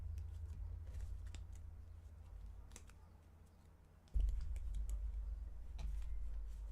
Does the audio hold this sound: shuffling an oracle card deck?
yes